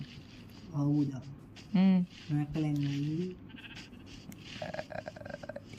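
Minecraft cows being killed by a player give several loud, drawn-out moos in quick succession, close and clear, followed by fainter game sounds and clicks.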